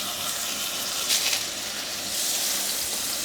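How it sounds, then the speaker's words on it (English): Steady broadband sizzling hiss of beef brisket frying in hot oil, holding fairly even throughout with a slight swell near the end. "So when I lay this in, I'm looking for a sizzle."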